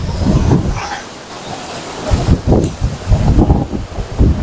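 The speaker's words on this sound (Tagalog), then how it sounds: "Ang lakas ng hangin." Strong gusts of wind buffet the microphone in loud, rumbling surges on a boardwalk by a fishing pond, easing briefly before roaring back in heavy, uneven blasts.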